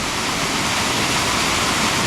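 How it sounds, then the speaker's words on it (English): A loud waterfall at Pucks Glen, water bouncing down a series of rock steps, a dense, steady, close roar of rushing water filling the whole clip with no voices. "there's a series of steps in the rock and the water kind of bounces down"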